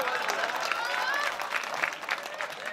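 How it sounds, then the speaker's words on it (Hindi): An audience at a Hindi poetry recital claps in a dense, continuous burst, with voices from the crowd mixed in over the applause, moderately loud throughout. "ताली बजाओ।"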